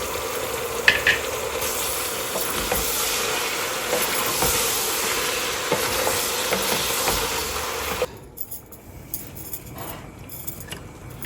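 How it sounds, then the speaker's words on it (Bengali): Ginger garlic paste fries in a pan with a loud, close sizzle and hiss under steady stirring, then the sizzle drops away abruptly near the end, leaving faint scraping. "একটু রং হওয়ার জন্য দিয়ে দেব আদা রসুনের পেস্ট"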